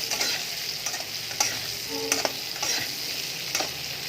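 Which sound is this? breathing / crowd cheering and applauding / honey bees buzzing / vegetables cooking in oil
vegetables cooking in oil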